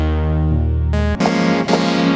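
A Modal Electronics Cobalt 8 synthesizer plays loud sustained tones through reverb and delay, with a low pad giving way to bright, harmonically rich chords that shift abruptly several times.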